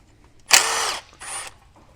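Two short bursts of a ratchet turning a 10mm socket to remove a nut on a Chevy Cruze during turbocharger replacement, close and loud, the first longer than the second, with quiet between.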